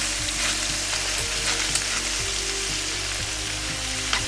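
Potatoes sizzle and crackle in vegetable oil in a pan on a camp stove during autumn tent camping, a loud, continuous frying hiss with occasional sharper pops and a steady low hum underneath.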